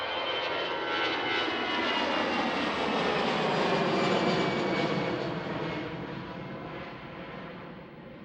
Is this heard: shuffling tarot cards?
no